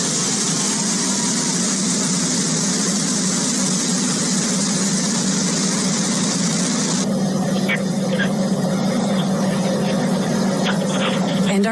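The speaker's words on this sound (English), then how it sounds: "Liftoff. New Shepard has cleared the tower." A Blue Origin New Shepard rocket engine roars at liftoff, a steady, dense, broadband rumble that holds loud and unbroken throughout, with some crackling texture in the later part.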